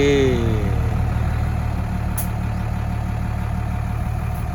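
A farm tractor clearing a field runs with a steady low engine drone and idle rumble throughout, close and continuous, with a brief faint high click partway through.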